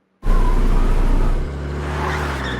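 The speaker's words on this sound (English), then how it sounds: "Who wants to go for a ride in the car?" A cartoon family car from Family Guy starts up and drives off, a loud steady engine rumble that begins abruptly and settles to a lower continuous drone.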